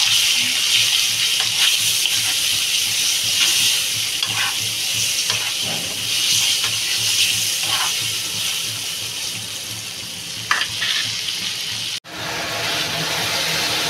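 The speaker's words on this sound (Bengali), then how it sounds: "আমার আলুটা ভাজা হয়ে গেছে" Potatoes fry in a pan with turmeric, a loud continuous sizzle with rhythmic stirring scrapes throughout, a sharp clatter near the end and a brief cut, no voices.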